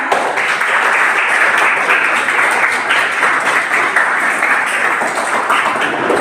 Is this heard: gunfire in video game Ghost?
no